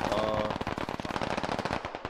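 Rapid automatic gunfire in the military shooter Squad, a fast string of sharp cracking shots in quick rhythm, fairly close and loud, with no talk over it.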